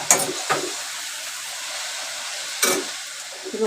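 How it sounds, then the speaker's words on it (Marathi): Fenugreek (methi) bhaji with moong dal being stirred in a pan, a steady soft sizzle and hiss broken by a few brief scraping stirs near the start and later on, with no talking. "आणि त्याला चांगलं ढवळून द्यायचं."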